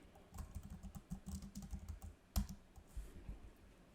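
Someone types a long prompt on a computer keyboard, a brisk, uneven run of close, crisp key clicks with brief pauses and one sharper thump partway through, with no voice.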